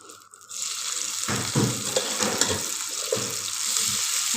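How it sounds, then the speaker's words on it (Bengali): Cauliflower fries in oil in a pan with a loud, steady, close sizzle. Brief crackling bursts rise out of the constant hiss. "তেল দিয়ে দিছি, এগুলো ওখানে ফ্রাই করা হবে।"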